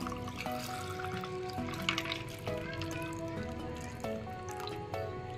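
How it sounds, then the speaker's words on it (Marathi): Watermelon mint juice pours into a glass over ice cubes, a faint, steady trickle with soft drips and light clinks close by. "आता यामध्ये हा ज्यूस ओतून घ्यायचा आहे ग्लास मध्ये आपल्याला।"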